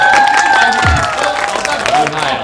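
A small group claps and cheers after someone finishes a 101-meatball eating challenge, a loud, close mix of applause and excited shouting voices.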